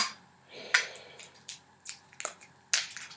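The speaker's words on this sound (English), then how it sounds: "I'm going to have to use the scissors on this one" Several sharp, crisp snips and clicks at close range, spaced irregularly, as scissors cut through the thin plastic seal on a hot sauce bottle.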